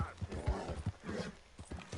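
Hooves of a horse galloping in Red Dead Redemption 2, a quick rhythmic clip-clop of repeated thuds, moderately close, with a voice talking over them.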